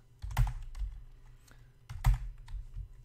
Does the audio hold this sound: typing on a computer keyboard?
yes